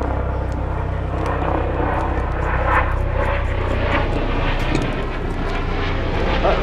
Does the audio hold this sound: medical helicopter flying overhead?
yes